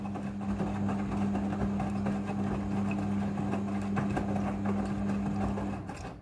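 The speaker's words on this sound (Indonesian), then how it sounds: "Mesin cuci front loading sudah full automatic dalam mencuci." Midea front loading washing machine running a wash cycle, a steady close motor hum with a constant drone, soft churning and clicking throughout, fading briefly at the end.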